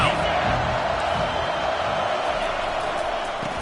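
Roar of a football stadium crowd rising behind the defense on third down, a broad, steady wash of cheering that holds loud and unbroken throughout.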